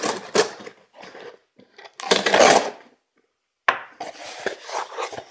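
Cardboard and plastic packaging of an Edwin Jagger DE89LBL razor being opened and handled, with close crinkling, tapping and rustling in separate bursts broken by silent pauses.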